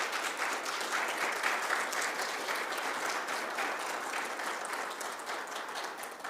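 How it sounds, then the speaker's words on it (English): Sustained audience applause at an academic symposium, dense steady clapping from a full room that holds level for several seconds and tapers slightly at the end, with no talk over it. "Can I please have a huge round of applause for Judy?"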